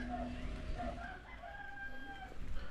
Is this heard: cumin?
no